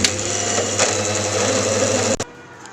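Electric grinder whirring steadily as garlic cloves are blended into shawarma mayonnaise sauce, a loud continuous motor hum that cuts off abruptly near the end.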